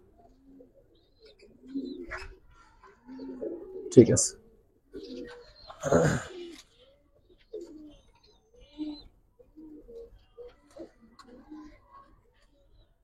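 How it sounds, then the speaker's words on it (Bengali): Pencil-beaked pigeons coo in soft, low bursts scattered across the stretch, close by, while someone talks between and over them. "পেন্সিল ঠোঁটের কবুতর অনেক ভালো হয় ভাই।"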